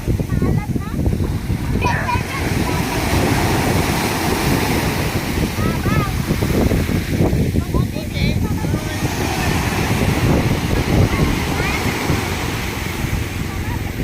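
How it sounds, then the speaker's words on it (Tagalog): Strong sea waves surge and wash on the shore at Dingalan, Aurora, a continuous churning roar heard close, with heavy wind buffeting the microphone and voices faintly present. "Lakas yung alon"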